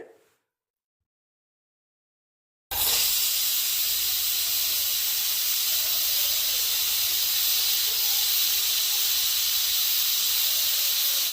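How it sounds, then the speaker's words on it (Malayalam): A pressure cooker on high flame, cooking biryani, lets out a sudden loud, continuous hiss of escaping steam after a short silence, staying steady and close to the end. "ശേഷം ഹൈ ഫ്ലെയിമിൽ വെച്ച് ഒരൊറ്റ വിസിൽ അടുപ്പിച്ചെടുക്കാം"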